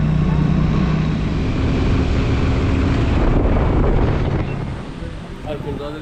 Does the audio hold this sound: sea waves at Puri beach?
yes